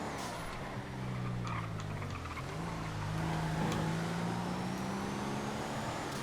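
A P40 car driving in GTA FiveM, its engine droning steadily with rising and falling pitch as gears shift, close and continuous with no talk.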